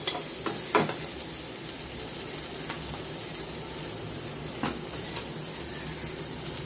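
Peas being sautéed in a pan for white sorghum upma, a steady soft sizzle with a few faint spoon scrapes standing out now and then.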